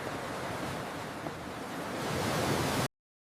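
Ocean surf on a tropical beach rushes in a dense, steady wash that swells slightly toward the end, loud and continuous with no voices, then cuts off abruptly.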